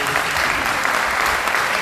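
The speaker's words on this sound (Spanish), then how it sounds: "Así que denle un fuerte aplauso y denle la bienvenida." A church audience applauds to welcome the pastor's wife: dense, steady clapping close by that fills the whole stretch at an even, loud level with no break.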